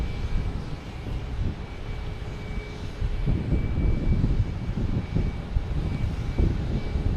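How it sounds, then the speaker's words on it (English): A Delta Boeing 757 airliner at Logan Airport bound for Fort Lauderdale, its engines producing a steady, rumbling roar that grows somewhat louder midway, heard from a distance without talk. "We have a Delta 757 heading to Fort Lauderdale."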